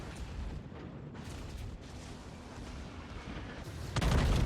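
Battleship gunfire and torpedo hits in World of Warships, with the Gneisenau fighting a New Mexico. Distant low rumbling booms run beneath the steady game ambience, and a heavier blast strikes near the end.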